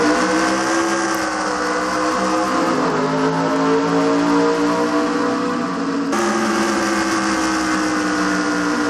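A pack of NASCAR-style race cars roaring off the green flag at the start of a video game All-Star race, a dense, steady engine drone with rising revs, loud and continuous.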